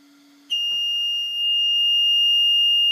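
A battery case emits a low hum that jumps to a piercing, steady high-pitched electronic tone, loud and continuous like an alarm, which holds to the end.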